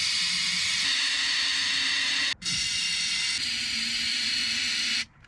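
An aerosol can sprays onto old pickup truck parts in two long, steady hissing bursts, close and moderately loud, with a brief break between them.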